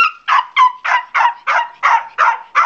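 A dog barks loudly and rapidly, about nine sharp yelping barks in an even, insistent rhythm, close up with no other sound between them.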